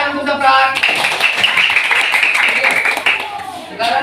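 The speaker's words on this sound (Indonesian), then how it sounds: "tepuk tangan untuk Zafran." Classroom applause for a student after a drawing lesson, a burst of hand clapping running the full length, mixed with children's voices talking over it.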